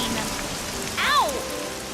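Light rain patters steadily in a Super Wings cartoon, a soft continuous hiss throughout, with a brief swooping tonal cry rising over it near the middle.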